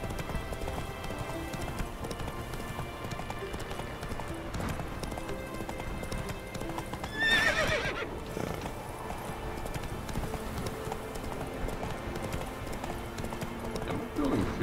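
In The Witcher 3 game, the horse Roach gallops with a steady rapid clip-clop of hooves, continuous and close, with a brief whinny-like burst midway and a voice talking over it.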